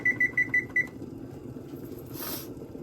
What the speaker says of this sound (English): We are simply going to turn off that timer